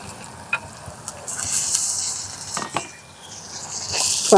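Mussel meat frying in oil gives a moderate sizzle that swells and fades, broken by a few sharp clinks and scrapes from stirring in the pan.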